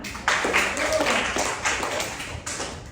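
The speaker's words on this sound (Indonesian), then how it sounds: "Oke, tepuk tangan" A small group in a classroom-style lesson claps briefly and unevenly, a loose patter of hands at moderate volume that trails off after a few seconds.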